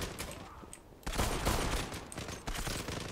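Rifle fire from a Kar98 in the online shooter Zula during a competitive match, a burst of loud sharp gunshot cracks with echoing tails over game ambience and faint voice.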